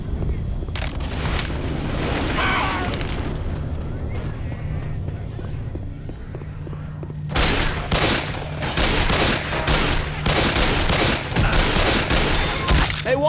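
Gunfire in the Xbox 360 zombie shooter Left 4 Dead 2: loud bursts of shots crack repeatedly, thinning out midway and then returning as rapid, closely spaced volleys, with voices talking over the action.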